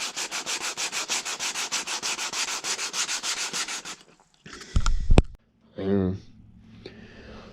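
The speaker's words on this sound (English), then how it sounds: "with sandpaper just to try to smooth it up a little bit" Sandpaper rubs back and forth on a cow horn in quick, rhythmic strokes, close and steady for about four seconds, then gives way to a few handling knocks and a brief voice.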